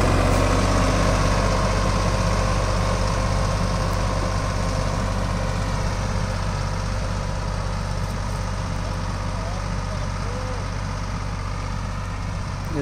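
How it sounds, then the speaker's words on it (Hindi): A tractor ploughing two furrows at once in a sugarcane field, laying 48-inch single-line trench rows, runs as a steady, loud, low engine drone throughout, close by and without talk. "अब देखो जैसे दो खूड़ पाड़ रहा ट्रैक्टर यो, अभी दिखाता हूँ आपको।"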